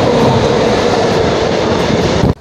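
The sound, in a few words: train passing very close by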